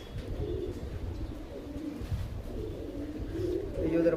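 Rajasthani Kalmoy and Bajra pigeons cooing up close, soft low throaty coos repeating under background noise.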